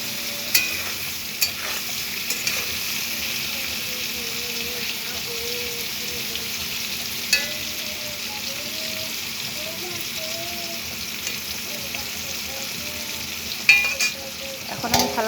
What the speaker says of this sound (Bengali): খুন্তি দিয়ে নেড়ে চেড়ে নিচ্ছি, নাহলে নিচে লেগে যাবে।